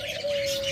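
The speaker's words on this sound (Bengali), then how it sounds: "আপনাদেরকে বেশ কিছু জাপানিজ বাজরিগার দেখাবো" Japanese budgerigar breeding pairs chirp in a brief burst, bright twittering calls close by over a steady thin tone, with no talking.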